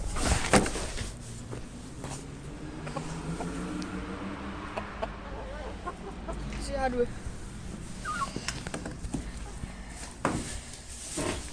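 Quails feeding in an outdoor run give soft clucks and chirps throughout, with someone talking nearby in between.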